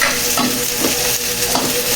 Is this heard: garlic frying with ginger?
yes